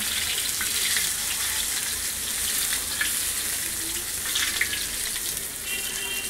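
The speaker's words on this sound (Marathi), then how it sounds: "हे बघा आपलं फ्राय होते आता" Bhagda and Bombil fish frying in hot oil, a loud, dense, continuous sizzle with crackling pops throughout.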